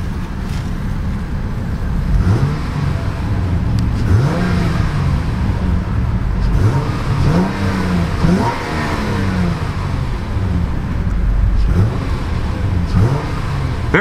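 The 3.7-litre V6 of a 2012 Acura TL SH-AWD revs loudly and close, with repeated rises and falls in pitch as the throttle is blipped over a steady engine drone. No one speaks.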